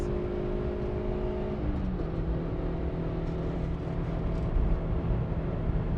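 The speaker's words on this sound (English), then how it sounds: "We're just going to casually overtake here a 300 horsepower car in the Yaris." A Toyota Yaris on winter tyres overtakes a 300 horsepower car at the Nürburgring, its engine droning steadily inside the cabin, dropping pitch with a gear change, then holding under road roar.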